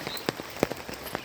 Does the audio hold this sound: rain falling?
yes